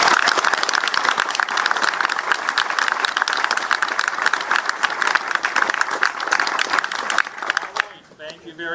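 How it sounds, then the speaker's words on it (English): Practice applause from a studio audience before a governor's race debate, a dense sustained roar of clapping lasting several seconds before abruptly tapering off as a voice begins. "So let's cue for applause at the beginning."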